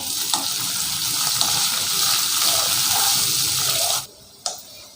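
Onions sautéing with salt in a pan for chicken chukka, a loud, even hiss of frying that runs steadily, then drops off abruptly near the end, followed by one brief clatter.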